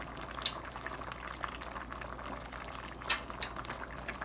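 A pot of stockfish and meat bubbles at a gentle boil up close, a soft continuous simmer broken by a few brief clinks.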